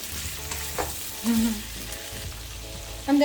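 Green peas tipped into a hot pan of fried carrots for egg fried rice: a steady frying sizzle with a few soft stirring scrapes and brief bursts, close and moderately loud, with no talking.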